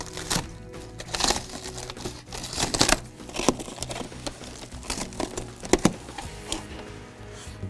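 Shrink wrap plastic is cut and torn away from a Lil Orbits SS1200 donut machine, producing close, busy crinkling, rustling and ripping noises that go on throughout.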